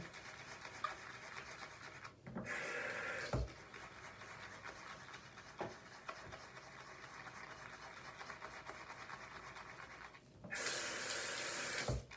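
Running water from a tap pours over a bronzer-covered makeup brush being washed with soap, with soft rubbing and splashing in between; bursts of full, louder flow start and stop, no speech.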